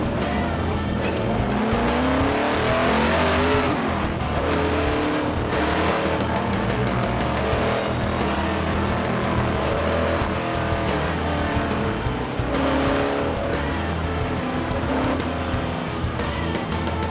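An AC Cobra race car at speed during the Tour Auto 2010 road event roars loudly and continuously, its engine rising and falling through gears with intermittent tire squeal.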